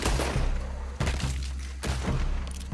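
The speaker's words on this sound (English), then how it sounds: "Just immediately started shooting at me" Gunfire in the Red Dead Redemption 2 video game: three heavy, booming shots spaced about a second apart, each followed by a rumbling tail over a continuous loud low background.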